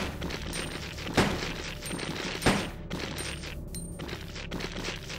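Rapid gunfire in Resident Evil 2, two sharp loud shots standing out amid a busy game soundscape with smaller impacts and clicks, no talk.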